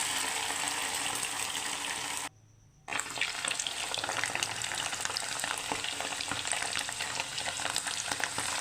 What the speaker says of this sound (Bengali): এই চিকেনগুলো এখন তেলের মধ্যে ভাজবো